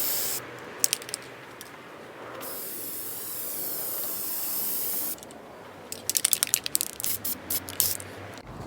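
Aerosol spray paint goes onto a bent metal curtain pole for a second coat: loud, close hissing bursts, one long sustained spray in the middle, then a run of short rapid blasts.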